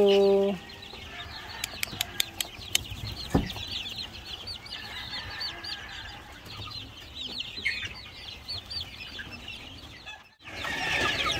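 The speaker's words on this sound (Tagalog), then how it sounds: "So ito yung mga sisiw natin mga ka-farmers" Small chicks of a Rhode Island Red and Black Australorp cross peep and cheep amid clucking, scattered high chirps over a steady outdoor background, with a brief burst of noise near the end.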